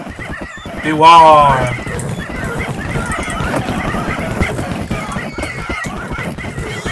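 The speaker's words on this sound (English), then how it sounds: "Horses everywhere." A horse in Minecraft whinnies loudly near the start, its call rising and falling over a steady bed of busy noise, with a voice speaking briefly.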